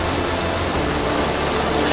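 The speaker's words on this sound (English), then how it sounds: "you can barely see through the rain. It's just hammering down." Heavy rain hammering down at sea around a sailing yacht in rising wind, a loud, dense, unbroken hiss of close downpour.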